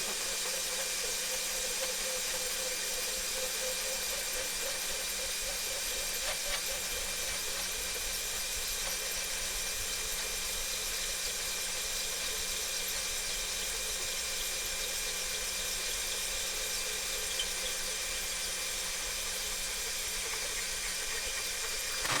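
A hand saw cutting slowly through the metal exhaust baffle (dB killer) of a KTM Duke motorcycle exhaust, a steady hissing rasp that runs continuously and evenly for the whole stretch without speech.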